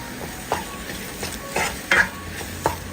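A spoon stirs salted, roasted spice powders in a hot pan, making several scraping, shuffling strokes at irregular intervals over a soft background sizzle, close and clear.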